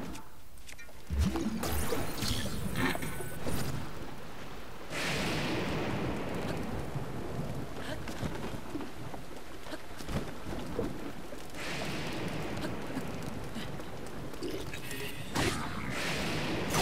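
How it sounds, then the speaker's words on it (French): Thunderstorm with heavy rain in Zelda: Breath of the Wild, a constant wash of downpour broken by several loud rolling thunder bursts near the start, middle and end. "J'ai toujours droit aux orages, à la pluie, au machin."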